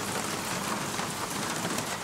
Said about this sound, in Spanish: Dicen que la lluvia arrulla